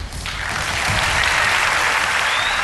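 A talent show audience breaks into loud, sustained applause that swells after a brief start and holds steady, dense and close, with no talk over it.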